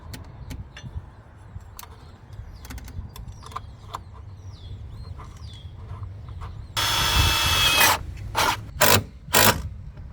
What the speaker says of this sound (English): from here we gotta drill one hole